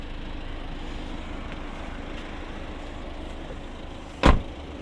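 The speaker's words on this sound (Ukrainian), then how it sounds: "Чітко закриваються двері." A 2012 Volvo S40 car door shut firmly, one sharp solid thud near the end of an otherwise quiet stretch of low background hum, close and distinct.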